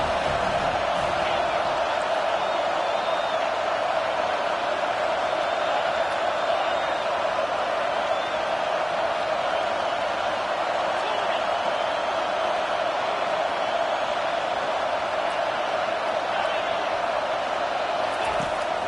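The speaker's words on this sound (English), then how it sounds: "how nice is it to have the home crowd going absolutely bananas?" Home crowd at a college football game, a loud continuous roar of cheering and whooping that holds steady throughout with no let-up.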